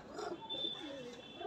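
A pigeon coos softly inside a high-flying pigeon loft, a low murmuring call that stays faint throughout.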